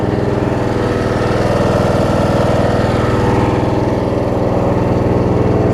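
Snapper RER riding lawn mower engine running steadily after a long idle period with a bad head, a loud, close, even chugging drone with no talk.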